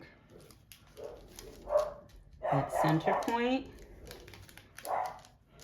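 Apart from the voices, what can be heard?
dog barking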